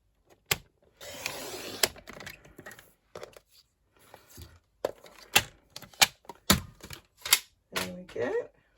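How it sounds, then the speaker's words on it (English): Craft material being cut down to one inch for an emery board holder, a series of crisp snips and clicks with brief rustling and handling noise, fairly close. "let's cut that down to 1 inch"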